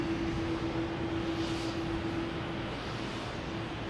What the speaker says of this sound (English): It's JetBlue from LAX, flight 288, and A321.